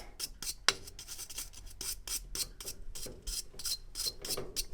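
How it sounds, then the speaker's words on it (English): A brass brush scrubbing the front of a furnace burner, rapid rhythmic back-and-forth rasping strokes, close and fairly soft, with no talking. "So you just take your burner and simply scrub the front."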